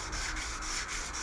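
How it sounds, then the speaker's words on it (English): Wet sanding of painted tractor bodywork with a 2000 grit sanding block and water, a steady soft scrubbing rub in repeated back-and-forth strokes, close and even, with no one talking. "we got some 2000 grit on some little sanding block here"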